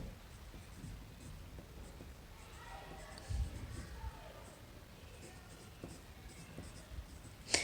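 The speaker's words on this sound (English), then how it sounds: "I will write that here for you." Marker or chalk strokes on a classroom board during a color theory lesson, quiet scratching and squeaking running through the whole stretch with a few louder taps near the middle and a sharp sound at the very end.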